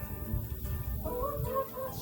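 Chickens in a messy farm coop cluck softly, with a few quicker, higher calls near the end over low rustling and handling noise, all fairly faint and close by.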